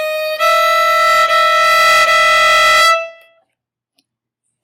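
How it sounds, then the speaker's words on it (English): A single dissonant chord rings out loud and harsh for about two and a half seconds, then fades quickly into silence. "dissonant harmonies, which sound bad"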